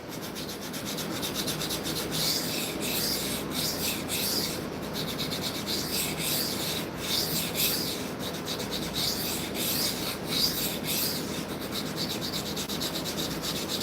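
A well-used knife edge being sharpened on a 400 grit vitrified diamond stone, close, continuous gritty scraping strokes in a steady back-and-forth rhythm, with no talking.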